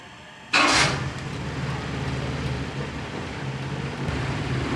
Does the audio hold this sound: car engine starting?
yes